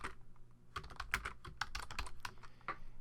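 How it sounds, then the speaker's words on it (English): Quiet, close typing on a computer keyboard, with a quick, irregular run of light key clicks and taps that lasts a few seconds. "and I'll just type in"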